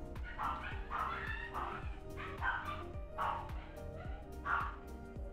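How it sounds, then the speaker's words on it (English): Neighbour's dogs, one of them small, bark and yip repeatedly in a steady rhythm of sharp bursts at fairly close range beside a home under renovation in Italy, with no talking. "Those are the dogs of our next door neighbor."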